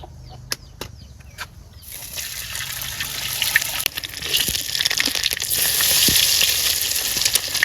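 Eggs fry one by one in a pan in a village kitchen, a steady hiss of sizzling oil that builds louder and denser over several seconds, with a few sharp clicks early on and no talking.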